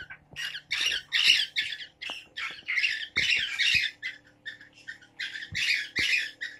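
A pet bird sings to its own shadow indoors, a steady stream of close, bright squawks and chirps in quick phrases with short pauses, loud and alone with no talk.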